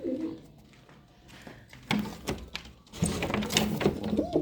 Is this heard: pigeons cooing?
yes